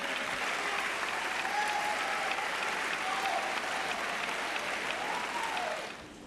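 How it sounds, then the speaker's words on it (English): A standing ovation at a school athletics awards event: a large crowd claps in a thick, sustained roar with a few voices calling out and faint tones above it, tapering off right at the end. "Stand up and clap."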